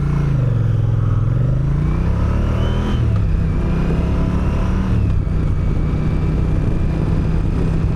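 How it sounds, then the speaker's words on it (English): Engine of a 2027 Moto Guzzi Stelvio motorcycle accelerating through the gears, a close, steady rumble whose pitch climbs, drops at shifts and climbs again, with wind noise around it. "very quintessential motorcycle sort of sound coming from this engine"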